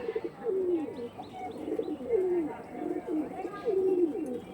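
Pigeons coo softly and steadily in a loft, their low rolling calls repeating every second or so with faint chirps behind, and no talk is heard.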